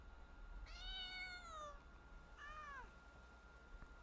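Two cat meows from the video game Genshin Impact, a longer rising-falling call followed by a shorter one after a brief pause, clear and fairly close over a quiet background.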